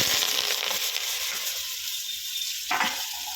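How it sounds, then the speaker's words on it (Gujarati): Mustard seeds and asafoetida tempered in hot oil for wheat-flour muthiya dhokla crackle and sizzle loudly and close, then the sizzle fades to a lighter hiss, with a brief utensil knock near the end. "હવે આપણે વઘાર કરશું।"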